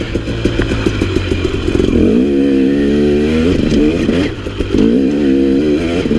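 A KTM 300 XC two-stroke dirt bike engine running close by, idling with a crackly putter before revving up into rising, wavering acceleration with a brief dip and a second climb, loud and alone.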